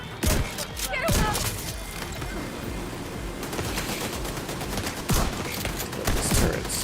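Sustained automatic turret gunfire in The Division 2's Battle for Brooklyn, dense overlapping bursts with sharper loud volleys near the start and end, a voice talking underneath.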